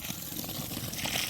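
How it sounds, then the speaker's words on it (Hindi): Water poured from a container into a freshly dug mango planting pit, a soft, steady splashing trickle at close range, lasting just over a second with no talk. "तो बस इतना सा जो है पानी डाल दिया"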